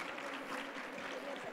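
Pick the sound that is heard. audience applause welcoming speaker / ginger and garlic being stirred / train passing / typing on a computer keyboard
audience applause welcoming speaker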